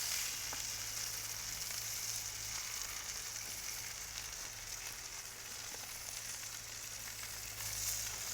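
Cheesy grits cakes sizzling on a hot griddle as they crisp, a steady, soft frying hiss running evenly throughout with no talking.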